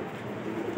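A White Eyes Lowflyer pigeon at a bird sale in Lahore gives a brief, soft, low coo lasting under a second, close by with faint background noise.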